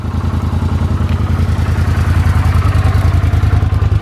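A 1983 Honda CX500 Super Sport motorcycle engine running steadily nearby, a loud, even idle with a regular pulsing throb and light mechanical clatter, no voices.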